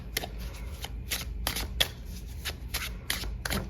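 A deck of Teacup Oracle cards being shuffled up close, with quick papery riffles and flicks repeating in short bursts at an uneven rhythm and no voice over them.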